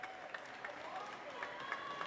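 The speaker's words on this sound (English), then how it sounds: "Crowd getting alive. Crowd waking up now." A crowd at a live pro wrestling event applauding and cheering, a continuous roar of clapping with some shouting under a voice speaking over it.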